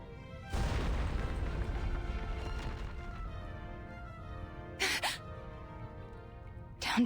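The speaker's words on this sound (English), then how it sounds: "Downstairs. Is that an explosion?" A loud video game explosion booms in and leaves a long rumbling roar that slowly fades, followed by two sharper bangs near the end.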